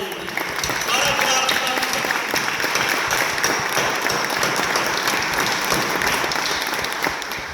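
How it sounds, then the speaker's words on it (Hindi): A church congregation at a Hindi/Urdu Christian worship service claps their hands together continuously, a dense, steady wash of clapping from many people in a hall, filling the whole stretch at even loudness. "मेरे साथ मिलकर ताली बजा के उसको जलाल दे"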